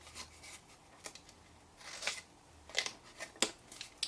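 Scissors cut through card in a series of short, crisp snips and rustles, close and quiet, with brief pauses between cuts and no talking.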